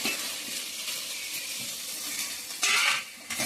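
Fried egg bhujia with vegetables and capsicum is stirred in a hot pan, giving a steady, loud sizzle with scraping spatula strokes and a brighter burst of frying near the end.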